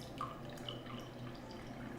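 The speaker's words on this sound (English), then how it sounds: "To fill this glass with water" Water is poured into a drinking glass, making a quiet, steady trickle with small bright splashes and a faint ringing tone. The sound is soft and close, with no voices.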